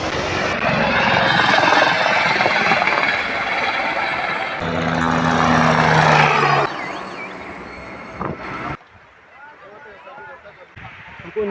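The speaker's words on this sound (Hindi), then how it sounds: "पूरे यात्रा मार्ग में हमें हेलीकॉप्टरों का शोर हर 10-15 सेकंड में कानों में सुनाई पड़ रहा था।" A loud, steady helicopter roar fills most of the stretch on a mountain pilgrimage route, then cuts off abruptly and leaves a quieter background with faint noise.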